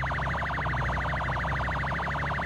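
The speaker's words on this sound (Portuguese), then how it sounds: "Olha lá, a sirene tá lá." A police siren in an online car-chase video game wails in a fast, even up-and-down warble, steady and moderately quiet over a low droning background, with no talking.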